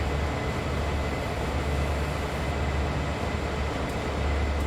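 An SD-40 diesel locomotive pulls a full manifest of boxcars in Train Sim World 2 on the Clinchfield line, a loud, constant engine drone with a deep rumble and steady rail noise, unbroken throughout.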